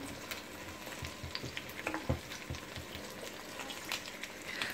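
Onion added to chicken thighs browning in oil in a tagine, crackling and sizzling steadily with sharp spattering pops throughout, close and moderately quiet, no talking.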